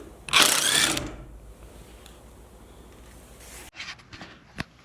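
A ratchet works on a bolt near the windshield of a Ford F-250 pickup, with a burst of fast clicking near the start, then quieter mechanical taps and a few sharp clicks toward the end.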